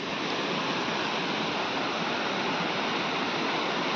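Floodwater rushing through a flood-damaged village in India, a steady, dense roar of flowing water that stays loud and unbroken throughout, with no voices.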